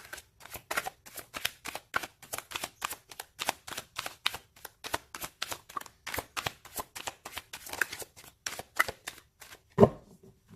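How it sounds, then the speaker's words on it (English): Tarot cards being shuffled by hand, a steady run of crisp riffling slaps and flutters repeating close to the listener, ending in one sharper tap near the end with no talking. "Let's pull a card for your physical space now."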